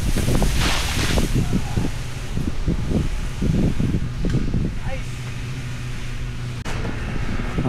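Wind rumbles and buffets the microphone steadily while someone talks over it, with a constant low drone in the background.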